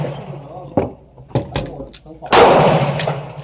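Several sharp gunshots firing Midwest ammunition ring out one after another at close range, followed by a louder, longer blast of noise.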